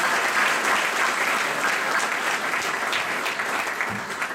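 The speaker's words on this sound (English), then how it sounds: "Just give a round of applause one more time, Mr. Houston." An audience at a sport management conference breaks into sustained, dense applause that stays fairly loud and steady throughout, tapering only slightly at the end, with no speech over it.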